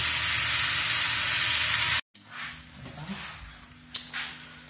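Steaks, bell peppers and onions fry in a hot pan with a loud, close, hissing sizzle for about two seconds. It then cuts off abruptly, leaving quiet room sounds and faint sizzling.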